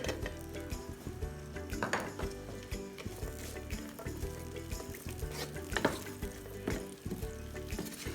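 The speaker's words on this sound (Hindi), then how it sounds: "इसमें मैंने ऑयल डाला 50 ग्राम के करीब। अब इसमें डालेंगे हम मेवे।" Dry fruits frying in about 50 grams of oil in a pan on low heat for Afghani Kabuli pulao, a continuous crackling sizzle with scraping stirs and clinks of a utensil against the pan.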